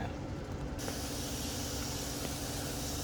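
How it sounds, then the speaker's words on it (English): Shrimp for shrimp and grits hit a hot pan and break into a loud, dense, continuous sizzling hiss that starts suddenly and holds steady, close up. "Okay, I threw my shrimp in. I gave them a little toss to try and even it out."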